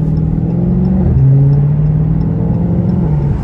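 A Dodge SRT 392 accelerating in track mode, its loud V8 rumble climbing in pitch, then dropping sharply at a hard gear shift and building again from close inside the car.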